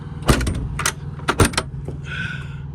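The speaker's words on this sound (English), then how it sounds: "Really heavy door. I mean, hear that? I mean, it's almost like blast proof." The heavy, stout cab door of a Sandvik LH410 underground mining loader, built almost blast-proof, produces several solid thuds and metallic clunks in quick succession, followed by a short higher rattle or hiss, all close by.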